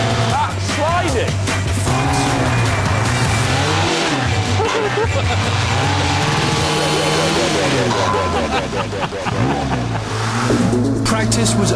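A Reliant Robin on a wet race track, its small engine droning and revving with changing pitch as it slides, close and loud throughout, with excited voices talking over it.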